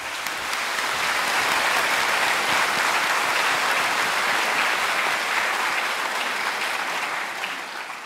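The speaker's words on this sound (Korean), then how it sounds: "다 뜨거운 박수를 부탁드리겠습니다" A hall full of people at a rally and inaugural ceremony claps steadily, a broad, continuous wash of applause held at even loudness throughout, with no talking over it.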